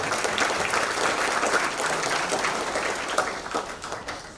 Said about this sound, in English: can we give the Gala team a round of applause for doing such a great job?